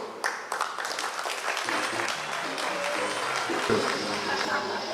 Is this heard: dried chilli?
no